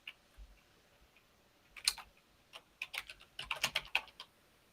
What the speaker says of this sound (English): Oh, what am I typing in?